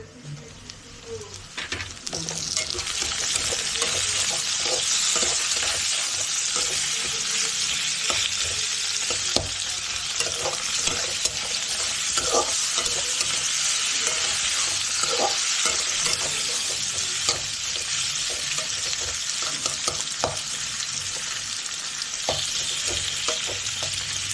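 Tomatoes frying in a pan for ghugni, a pea curry, sizzle steadily at close range while a spoon stirs and scrapes with frequent clicks and knocks across the whole stretch, without speech.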